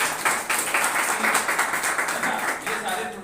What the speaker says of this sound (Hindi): तो एक बार जोरदार तालियां आपके लिए